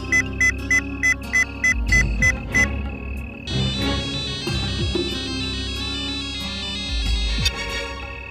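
A telephone call rings with a repeating electronic ringtone of short pulsed tones, then gives way to a louder melodic ring pattern under music and effects in a film scene, loud and without speech.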